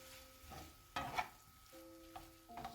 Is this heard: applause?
no